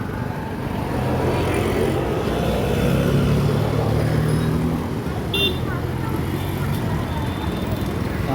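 Busy street traffic near a market in Surat, with cars and motorcycles passing in a steady roadway rumble and a brief horn toot, while people talk over it.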